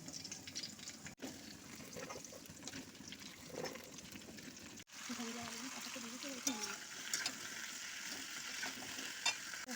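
Okra and potatoes hit hot oil with dried red chilli, five-spice tempering and green chilli, giving a steady close sizzle with scraping stirs. A brief gap comes midway, and a voice talks over parts of it.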